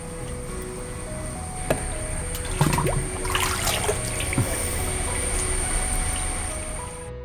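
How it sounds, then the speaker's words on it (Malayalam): Water poured from a foot valve used as a cup into a 72V self-priming BLDC pump, a soft, steady trickle close by with a few small splashes. "സെൽഫ് പ്രൈമിംഗ് പമ്പ് ആയതുകൊണ്ട് പമ്പിൽ ആദ്യം വെള്ളം ഒഴിക്കണം"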